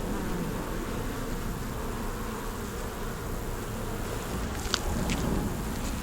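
Continuous close buzzing of honey bees crowding a nearly full hive brood box, a thick steady drone with a brief faint click near the end.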